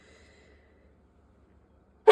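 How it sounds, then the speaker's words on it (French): A single short, sharp sneeze bursts out at the very end after near silence, loud and close. "je vais éternuer."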